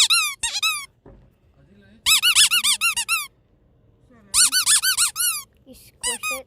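A cat-shaped squeaky bag being squished lets out bursts of rapid, high, rising chirps in quick trains of several squeaks each, close and loud, with quiet handling noise between bursts.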